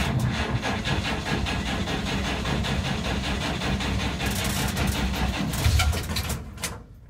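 A 1947 GMC generator engine running after a choked start, giving a fast, steady rhythmic mechanical clatter nearby that surges near the end, with no talking.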